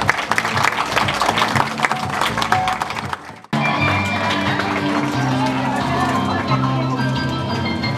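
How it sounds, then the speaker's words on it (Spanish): A school graduation audience gives sustained applause, mixed with crowd noise and an amplified voice, then after a brief cut music plays under continued clapping. "Fuerte el aplauso para Alicia."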